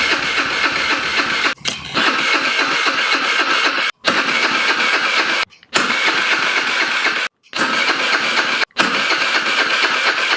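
A 50cc Chinese scooter engine cranks and runs in several loud bursts, cutting out abruptly a few times and restarting, with a buzzy mid-pitched idle close by.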